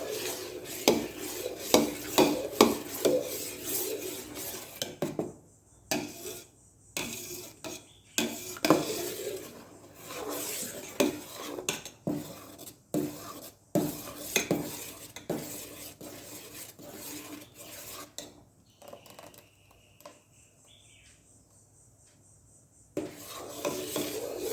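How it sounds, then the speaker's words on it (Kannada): A spoon scrapes and clinks against a metal pot as butter is stirred while it melts down into ghee, with steady irregular scraping strokes, some brief pauses, and a quieter sizzle near the end. "ಮಿಕ್ಸ್ ಮಾಡ್ತಾ ಇರಬೇಕು, ಇಲ್ಲಾಂದಾದರೆ ಬೆಣ್ಣೆ ತಳ ಹಿಡಿತದೆ."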